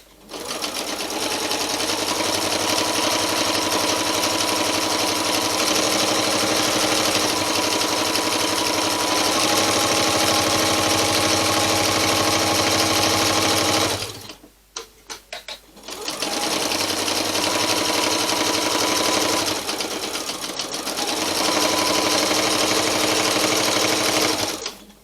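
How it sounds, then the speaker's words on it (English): Sewing machine stitching straight down the length of fabric for a Valentine's table runner, a loud steady whirring run that stops briefly midway, then resumes and carries on at an even pace with no talk. "you literally can just sew all the way down your fabric"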